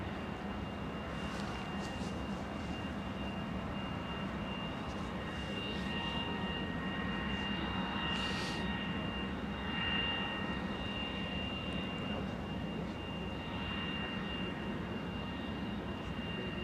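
An airplane takes off at Anchorage into a tailwind, a steady broad engine roar holding at a distance for the whole stretch, with faint hisses rising and fading over it.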